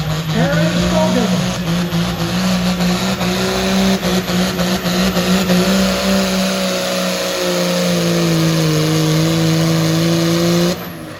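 A diesel tractor roars continuously at a county fair tractor pull, its loud, heavy engine note holding steady with slight pitch shifts as it labours under load.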